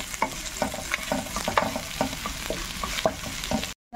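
Ginger browns in hot oil in a pan for a coconut-milk fish dish, a close crackling sizzle broken by frequent sharp stirring scrapes and taps, ending in abrupt silence.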